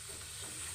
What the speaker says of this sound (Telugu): ఆయిల్ సరిపడిగా వేసుకొని వేయించుకోండి